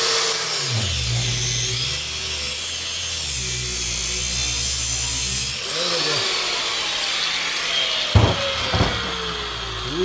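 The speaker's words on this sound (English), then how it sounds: "It's even hard for the grinder." An angle grinder cutting into a brake rotor, a loud steady whine that shifts pitch as the disc bites into the metal, with a couple of brief harsher scrapes near the end.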